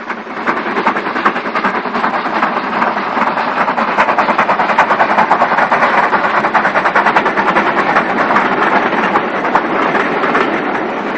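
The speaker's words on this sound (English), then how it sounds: "Framed by the Goodshed entrance, two BR standard 460s pound past on an up express." Two BR Standard 4-6-0 steam locomotives pound past on an up express on the Somerset & Dorset Bath extension, a loud, sustained, dense roar of rapid exhaust beats and clattering wheels close by throughout.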